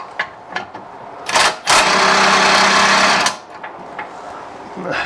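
A stuck nut spun off a bolt with a ratchet extension during front strut work on a Range Rover L322, heard as a loud whirring burst lasting under two seconds, with short clicks and clatter before and after.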